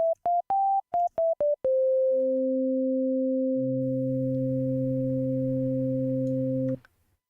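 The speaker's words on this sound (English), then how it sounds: "So this is subtractive synthesis." Subtractive synthesizer tones: a run of short pure-sounding notes, then a sustained held note joined by two lower layered tones that stack into a steady drone before cutting off cleanly.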